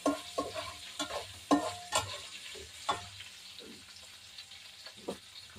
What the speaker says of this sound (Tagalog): Ginigisa ko na yung pork belly.